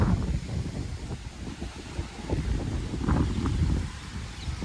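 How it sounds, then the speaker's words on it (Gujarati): Strong gusty wind ahead of a storm buffets the microphone, making a loud, rumbling roar that swells and dips over a few seconds. "વાવાઝોડું અને વરસાદ આવે એવું લાગે શક્યતા જોરદાર પવન ફૂંકા"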